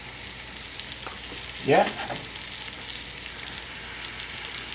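One large onion frying in a pot as the base for a stone crab seafood boil, a steady close sizzle with a brief louder burst of hissing as it goes in, and a short spoken word.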